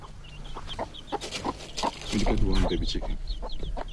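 Chickens cluck and squawk nearby in short, scattered bursts, with soft background noise and occasional louder calls.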